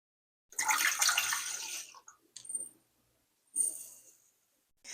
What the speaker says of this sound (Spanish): A ver, voy a echarle una taza de agua.